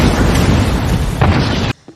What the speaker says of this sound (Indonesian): Di angkasa terlihat jika terjadi ledakan antara rudal dengan pelumpuhnya ya.